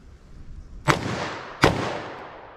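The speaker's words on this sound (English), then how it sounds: "I'm going to pull up from the holster, get a sight picture, and I'm going to fire 2 on target" Two loud .357 Magnum handgun shots, drawn from the holster and fired at a target, crack out about three quarters of a second apart, each followed by a short outdoor echo.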